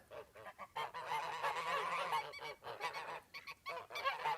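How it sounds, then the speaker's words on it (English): A flock of farm geese honks at feeding time, the calls coming in quick overlapping bursts and a longer chorus, moderately close and lively. "let's see if you can hand feed the geese"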